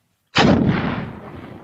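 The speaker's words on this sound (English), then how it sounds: "Is that a mortar?" A single loud mortar round firing during a Halloween game night, one sharp, heavy boom with a long rumbling decay, close and heard alone.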